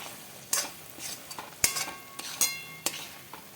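Onion thokku is stirred in a pan after salt goes in, with a spoon scraping and clinking against the metal in irregular strokes over a soft sizzle, close and moderately loud, with no talk.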